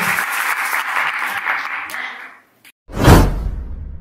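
Church congregation clapping for the Lord at a French-speaking worship service, a loud close wash of applause that fades to silence, followed by a single heavy whooshing thump.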